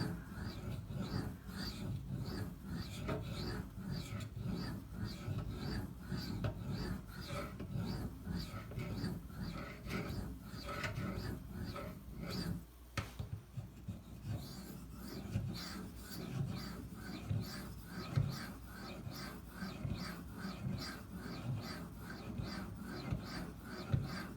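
Quiet, rhythmic scraping strokes of a Cold Steel Demko AD-15 pocket knife edge on a 5000 grit whetstone, soft and repetitive with a brief pause midway.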